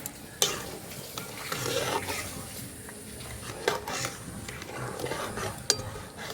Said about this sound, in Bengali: এইভাবে অনবরত নাড়তে হবে।